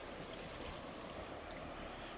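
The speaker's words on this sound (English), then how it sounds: "So you've got these little waves coming in, not quite breaking" Small unbroken waves roll in on the sea along the South Hams coast, giving a steady, close wash of water noise that never stops. No one speaks.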